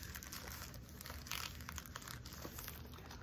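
Tissues are handled and crinkled while being packed into a Coach Soft Tabby handbag, a soft, continuous papery rustle close by and fairly quiet, with no speech.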